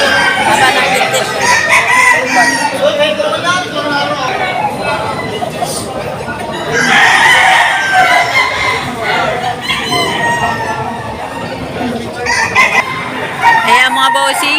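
Chickens and roosters cluck and crow continuously at a busy chicken market in Padre Garcia, a dense, loud mix of bird calls overlapping with people talking nearby.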